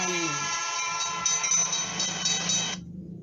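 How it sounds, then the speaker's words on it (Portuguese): A train's loud, sustained horn-like whistle with rich harmonics over rumbling rail noise, cutting off near the end as the low rumble continues. "Se você disse que esse é o som de um trem"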